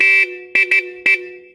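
A jeepney's loud, brassy multi-tone traditional horn sounds nearby in four toots: one long blast, then three short ones in a quick, uneven rhythm.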